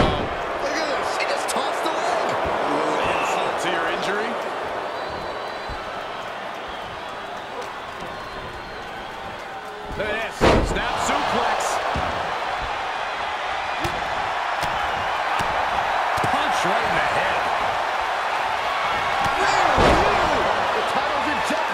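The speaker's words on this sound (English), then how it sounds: "T-bone into a power slam." A video game wrestling power slam lands in a championship match, a sharp heavy impact around the midpoint over steady crowd noise, with a second thump near the end and a commentator talking throughout.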